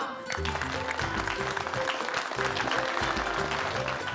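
An audience claps steadily in dense, sustained applause for two winners at a prize event. Background music plays underneath.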